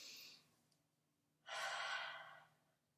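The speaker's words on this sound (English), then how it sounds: "Take a deep breath in." A close, airy breath trails off at the start, then after a pause comes one deep, drawn-out inhale lasting about a second, soft and breathy in a quiet room during a children's yoga session.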